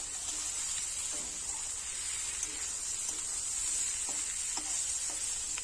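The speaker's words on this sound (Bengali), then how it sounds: "বারবার নাড়াচাড়া করে সবজি ভালোভাবে কষাই করে নিয়েছি" Vegetables with tangra river fish being stirred and sautéed in a curry pan: a steady bright sizzle runs throughout, with soft scraping strokes of the spoon recurring every second or so, close and alone.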